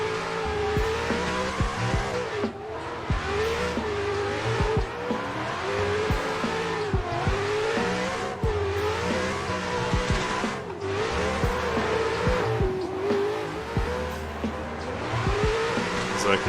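A car in a drift racing sim game revs hard with repeated throttle blips and rising, falling engine pitch, with tire squeal and skidding woven through and a voice talking over it.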